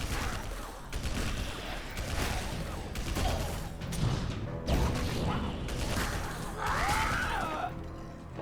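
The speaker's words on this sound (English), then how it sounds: "Don't mind the fireworks going off in the background" Fireworks go off in the background in uneven bursts of crackles and pops, moderately loud and continuous, with no one talking.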